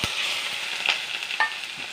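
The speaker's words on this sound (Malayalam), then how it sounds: "ചെറിയ ഉള്ളി, ഇഞ്ചി, വെളുത്തുള്ളി ഇത്രയും ചതച്ചെടുത്തതാണ് നമ്മൾ. ഒക്കെ എണ്ണയിലിട്ട് കൊടുത്തു." Crushed shallots, ginger and garlic drop into hot oil with curry leaves for a sardine curry, giving a steady close sizzle with a few brief stirring scrapes and spatters.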